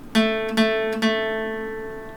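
A guitar chord strummed three times in quick succession, close up and moderately loud, ringing out afterward with no speech.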